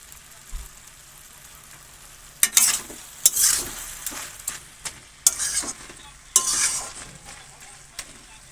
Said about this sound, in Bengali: তাই এখন আমি রান্না করছি এই যে বাঁধাকপির তরকারি